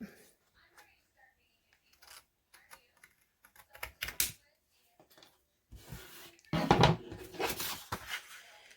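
Paper is cut for a craft tag at a tabletop, sounding as sparse soft snips and rustles that grow busier near the end, close and quiet, with low talk mixed in.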